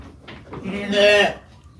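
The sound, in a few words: sheep bleating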